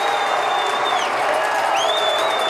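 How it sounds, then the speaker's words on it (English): A massive home crowd at a Massillon Tigers high school football game against Glenville cheers in a loud, continuous roar, with shrill whistles and whoops rising above the sustained noise. "This massive crowd trying to get behind the Tigers."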